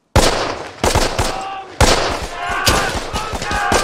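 Bursts of machine gun and rifle fire in a World War II combat scene, loud, close volleys starting abruptly with rapid rattling repeats and sharp single cracks, a brief lull before a second heavy burst, and a shouted voice faintly underneath.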